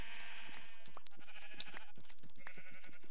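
Sheep bleat in the Minecraft Pixelmon modpack during shearing, several short wavering bleats repeating close by with no talking.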